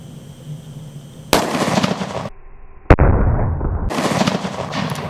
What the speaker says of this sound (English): So this is a Smith & Wesson 500, and this shoots a flame quite a bit as well.